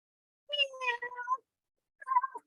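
A voice imitates a cat meowing in a read-aloud children's story: one drawn-out, wavering meow, then a shorter meow after a brief pause, close and clear against silence.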